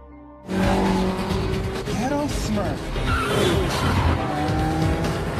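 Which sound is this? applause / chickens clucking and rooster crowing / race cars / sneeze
race cars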